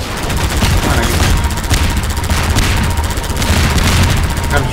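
Rapid gunfire rattles in Half-Life 2 during a firefight, with dense bursts of shots and booming impacts that are loud and close and continue without pause.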